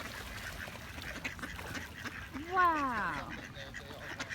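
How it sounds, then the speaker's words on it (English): Ducks gather in large numbers, and one clear rising-and-falling quack stands out midway over steady outdoor background noise, with a person exclaiming nearby. "There are so many ducks here."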